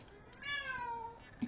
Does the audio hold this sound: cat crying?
yes